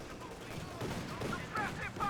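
Gunfire in the video game Company of Heroes 2 crackles in a brief, dense burst of rapid shots, mixed under a voice talking.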